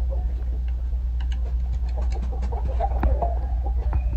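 A rooster and hens cluck in short, scattered calls over a steady low hum on a farm, with occasional sharper calls near the end.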